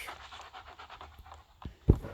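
A dog pants rapidly close by, short rhythmic breaths, followed by a brief thump near the end.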